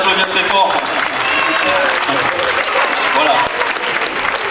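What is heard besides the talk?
audience applauding ventriloquist's performers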